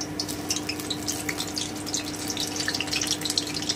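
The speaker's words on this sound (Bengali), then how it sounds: "এইভাবে আমি সব কটাকে ভেজে নিচ্ছি।" Stuffed spiny gourd (kakrol) frying in oil in a pan, a dense, steady sizzle with crackling pops throughout, close and continuous with no talking.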